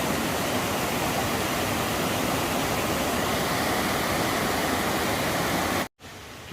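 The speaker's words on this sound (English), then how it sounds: "Just come across now and found another waterfall, actually a bit better than the one below" A waterfall near Keld in the Yorkshire Dales roars loudly and close as a dense, constant rush of water, then cuts off abruptly near the end, leaving a quieter, more distant flow.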